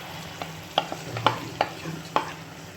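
Fish curry with yogurt, oil, chopped green chili, turmeric and Kashmiri chili fries softly in a pan, with a low sizzle under four or five distinct scraping stir strokes at a steady, unhurried pace; no talk.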